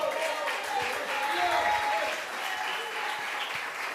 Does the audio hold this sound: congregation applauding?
yes